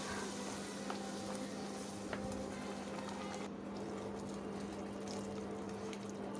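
Ground masala paste goes into brinjal frying in a pan for village-style kathirikai kulambu, and a steady, close sizzle follows. A couple of faint clicks and a shift in the hiss partway through sit over a low background hum.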